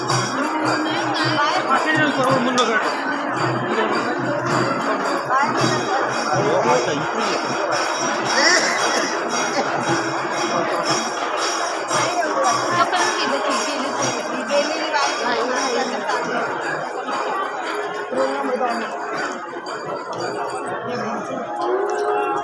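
Dense crowd chatter outside a temple, many overlapping voices forming a continuous loud murmur with occasional nearer voices and faint clinks.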